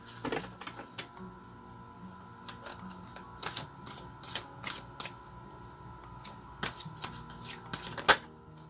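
Tarot cards shuffled by hand, with a run of crisp riffling flicks and soft slaps coming in irregular bursts, close up and fairly quiet.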